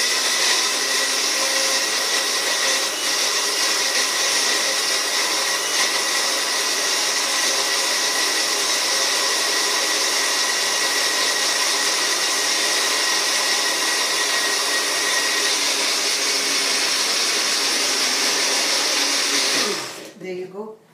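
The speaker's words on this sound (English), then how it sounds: "So we're just going to grind our spice, our basic." Electric spice grinder whirs loudly and continuously as it grinds curry spices for a seafood curry, a steady high motor roar that holds for about twenty seconds before cutting off, close up with no voices.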